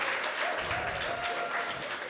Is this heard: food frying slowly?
no